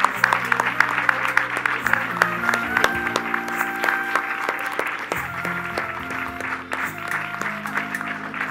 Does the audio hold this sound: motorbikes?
no